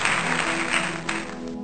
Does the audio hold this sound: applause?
yes